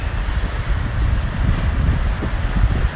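Wind blows along the seashore at Key West, buffeting the microphone with a steady low roar mixed with the wash of surf, no talking.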